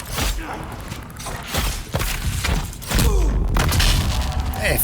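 Dune Awakening machine gunner enemies fire dense bursts with booming impacts and thuds, loud and close, continuing throughout while voices are heard underneath.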